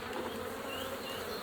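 Honeybees drone in a dense, steady buzz at an open hive during spring, close and continuous with no speech.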